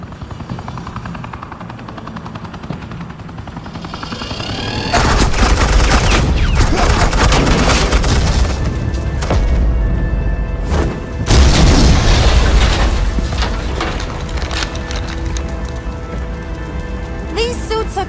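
Suppressing gunfire and explosions in the Batman Telltale video game, loud dense bursts of rapid shots and heavy booms that erupt suddenly and rumble on with crackling debris.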